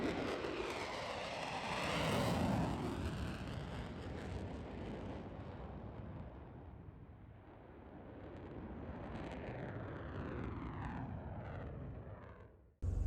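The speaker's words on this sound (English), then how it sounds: "a pair of F-35s departed to set up for a stadium flyby before an NFL game" A pair of F-35 fighter jets departs Boeing Field in Seattle, a loud, broadband jet roar that swells early and stays sustained and rumbling before cutting off, with wind buffeting the microphone.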